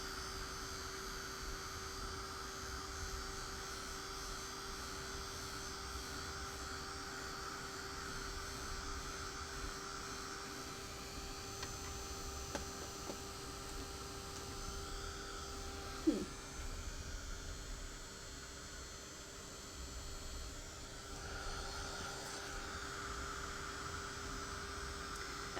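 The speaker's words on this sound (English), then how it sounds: "I'm going to take my little heat tool and I'm going to heat that so that it dries some." A small heat embossing tool blows a steady, faint, continuous whir to dry stamped ink on a rubber-stamped foil craft piece, with no pauses or talk over it.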